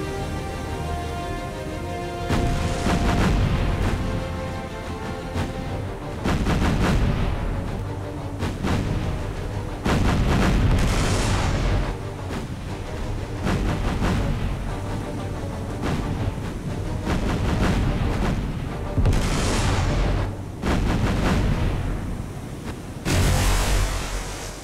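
Warship guns in the naval combat game War on the Sea fire in repeated heavy booming salvos, each loud blast followed by a rumbling decay, recurring irregularly over a sustained roar.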